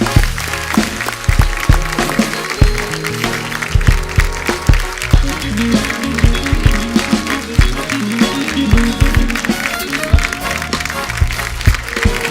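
A studio audience at a comedy talk show applauds the heroes with sustained, dense clapping, mixed with background music and some talk.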